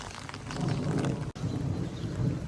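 A heavy storm pours down on a village road, with dense rain roaring close by and low rumbling thunder beneath it. The sound is loud and constant, broken only by a very brief dropout midway.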